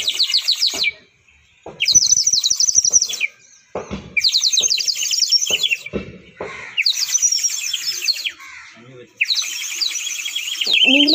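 Sparrows chirp in repeated bright bursts that answer a whistle imitating sparrow calls, with short pauses and scattered clicks and knocks between the bursts.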